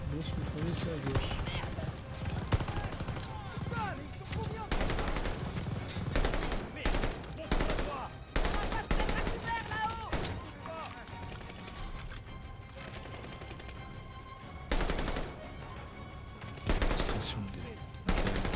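Heavy machine gun fire in the Call of Duty: Warzone video game, dense bursts and rattling volleys throughout, with players talking over the shooting.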